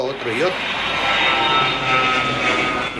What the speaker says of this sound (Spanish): Si están pasando los aviones, no duermes.